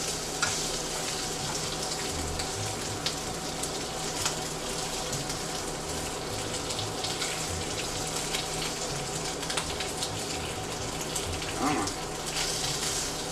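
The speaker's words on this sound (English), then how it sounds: "Make sure that bacon is nice and crispy." Bacon frying until crispy in a pan, a constant crackling sizzle with scattered pops and spits running steadily throughout, with no voices.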